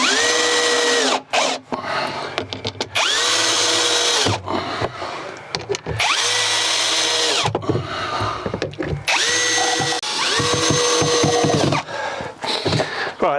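A power drill drives screws into a Keter Denali 150 plastic garden box, making repeated loud whirring bursts that rise in pitch and then stop, broken by short pauses and clicks as each screw goes in.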